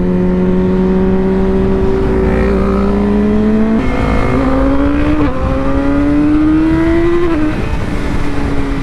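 A Yamaha R6 motorcycle fitted with a quickshifter revs loud and close through rising gears, the engine note climbing and dropping abruptly at each quick upshift, with steady wind roar underneath and no talking.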